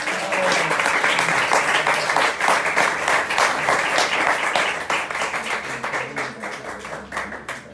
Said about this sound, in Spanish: Un fuerte aplauso a Atlantis,